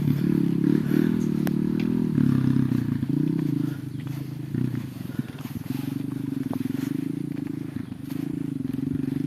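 A motorcycle engine running steadily on a damaged village road in a quiet hamlet, a loud continuous low drone that dips briefly midway and resumes, close and alone without talk.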